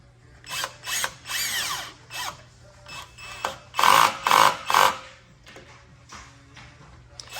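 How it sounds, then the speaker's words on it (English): A cordless drill drives screws while installing an upper deck seating system, with several short whirring bursts separated by pauses. Louder pulses of the motor come in the middle, close to the microphone. "using a drill makes it a lot easier and faster"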